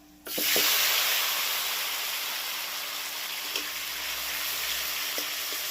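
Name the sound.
two large tomatoes frying in mutton curry pan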